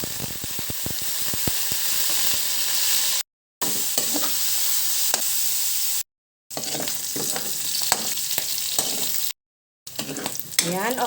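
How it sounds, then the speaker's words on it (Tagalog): Pork fries in cooking oil in a pan, a continuous close sizzle and crackle with stirring scrapes, broken by a few brief silent gaps. "Ipan fry muna natin ang ating pork."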